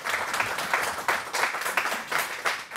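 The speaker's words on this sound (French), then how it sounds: "on peut vous applaudir" Brief audience applause in a conference hall after a panel on security equipment, with steady pulsing claps at moderate volume and no speech.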